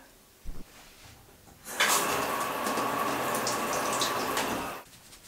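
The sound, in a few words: shower running water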